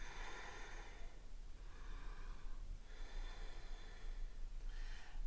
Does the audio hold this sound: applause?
no